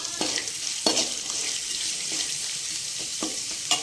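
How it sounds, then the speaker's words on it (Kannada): Onion and chilli frying in a pan make a steady close sizzle, broken by a few sharp scraping stirs. "ಚೆನ್ನಾಗಿ ಫ್ರೈ ಹಾಕಿ ಸ್ವಲ್ಪ ಅದು ಕಲರ್ ಕಲರ್ ಬರಲಿ ಸೊ ಅಲ್ಲಿ ತನಕ ಫ್ರೈ ಮಾಡೋಣ"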